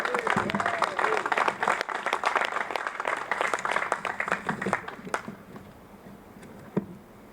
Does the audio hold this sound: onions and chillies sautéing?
no